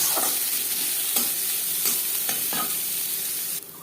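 Chopped onion and garlic cloves frying in refined oil in a pan: a loud, dense hiss with several rhythmic stirring scrapes, cutting off abruptly near the end.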